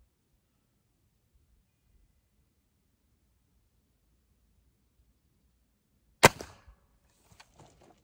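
A single sharp crack from a Hatsan Carnivore 135 .30 caliber air rifle breaks the silence, followed by a short ring-off and a few faint clicks.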